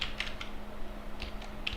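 A computer keyboard tapped at a command line, a few quick, light keystrokes in two short bursts, close and quiet, with no talking.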